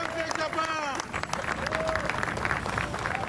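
Large crowd welcoming the all-new Boeing 787 Dreamliner on its first arrival in Japan, a steady wash of cheering, clapping and babble with shouted voices rising over it, close and loud throughout.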